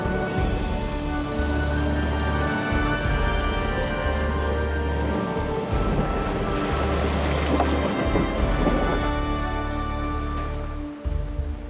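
A boat engine on a jungle river in Bolivia drones steadily with low rumbling tones, water and wind noise washing over it, continuous and close throughout.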